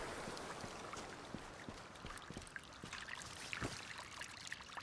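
Water being collected in the winter survival video game, a soft continuous trickle and pouring splash with scattered small drips, faint and steady from start to finish.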